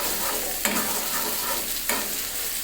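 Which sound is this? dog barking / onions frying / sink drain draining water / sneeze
onions frying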